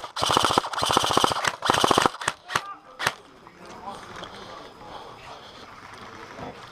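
Airsoft guns fire in rapid, close bursts during a UK milsim game, two long volleys then a few single pops before fading into distant background noise.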